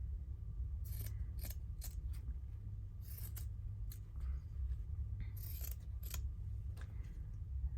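Scissors snip through stitched embroidery fabric in a series of crisp, close cuts that come in quick clusters over a low steady hum, with no talking.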